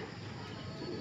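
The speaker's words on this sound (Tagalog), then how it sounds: "Ayun po yung ating mga ibon." Pigeons cooing in a dense flock, a steady low murmur of overlapping coos filling the whole second, close and continuous with no talk.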